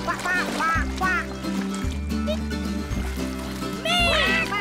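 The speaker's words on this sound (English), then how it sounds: "Quack, quack, quack, quack." Several cartoonish duck quacks from the Twirlywoos children's show ring out over a steady, looping musical backing.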